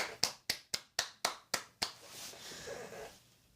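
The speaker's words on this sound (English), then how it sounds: "Make an applaud for Hasbro." Seven sharp hand claps in an even, quick rhythm, close and crisp, followed by a faint soft hiss with no talking.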